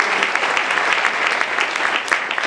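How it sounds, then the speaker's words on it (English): A room full of people applauds at a town address by a local chamber of commerce, dense continuous clapping that stays loud and even throughout. "If I could have a round of applause for everybody at the Chamber staff and for AJ and his team who do such a great"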